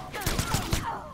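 A machine gun fires in the fighting game Mortal Kombat X during a tournament match: four quick, heavy bursts in a row, loud over the game's background sound, with a commentator's voice faintly underneath.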